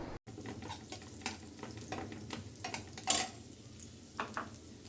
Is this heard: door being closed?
no